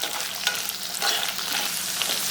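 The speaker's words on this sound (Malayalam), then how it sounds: "ഒരു സവാള രണ്ട് പച്ചമുളക് കുറച്ച് വേപ്പില നാലഞ്ച് വെളുത്തുള്ളി കളറൊന്നും മാറണ്ട ഒന്ന് ജസ്റ്റ് ഒന്ന് വാടിക്കിട്ടെ" Sliced onion, green chillies, curry leaves and garlic sautéing in a pan for sambar, a steady close sizzle and crackle with stirring scrapes, no talking.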